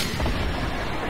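Gunfire in the Fortnite video game, a dense, loud, booming rumble of shots lasting about a second with no talk.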